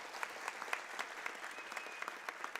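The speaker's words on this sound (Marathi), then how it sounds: "तर त्यांच्या नावाने एक टाळ्या मारूया आपण सगळ्यांनी." An audience at the Jallosh 2020 stage event claps for the backstage crew, a soft, scattered patter of hands with individual claps standing out sharply over a light steady background.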